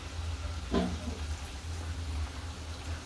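Homemade khari pastries fry in oil on a low flame, a soft continuous hiss over a low hum. A brief clink comes near the start, with no voices.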